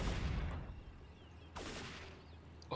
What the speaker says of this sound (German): Okay, wir befinden uns unter Beschuss.